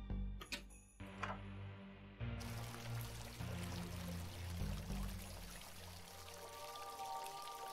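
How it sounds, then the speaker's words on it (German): Water poured in a crafting video game, starting with a couple of sharp clicks then settling into a continuous splashing, bubbling pour that runs for several seconds at moderate level, with no talking. "Einfach Wasser hinzugeben."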